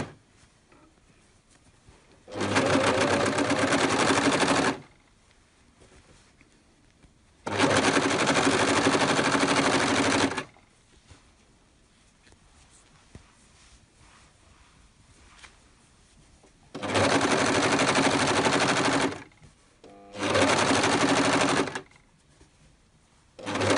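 Overlock sewing machine running a seam across a ribbed fabric edge and over crotch seams, in four steady loud whirring bursts of a few seconds each, separated by quiet gaps.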